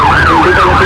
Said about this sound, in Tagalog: Umalingaw ang mga sirena ng ambulansya sa Makati City kanina.